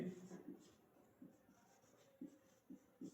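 Pen writing on paper during a Class 10 maths lesson, with soft scratchy strokes in short irregular bursts, close but faint, under light background noise.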